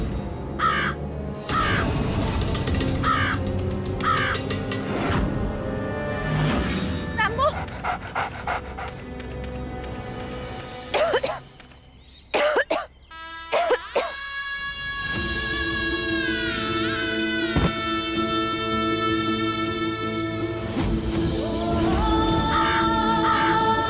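A crow caws several times with harsh, repeated calls in a Hindi television drama scene, mixed with other loud, busy sounds throughout.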